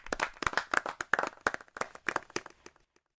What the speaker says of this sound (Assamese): হাত চাপৰি, হাত চাপৰি দিয়া